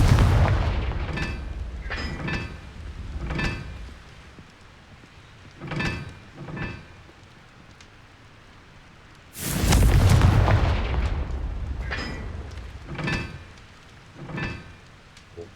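Blasting Confringo spell bursts in the Hogwarts Legacy video game: a series of sharp explosive booms and crackles at irregular intervals, with one bigger, longer rumbling blast midway and smaller impacts trailing after it.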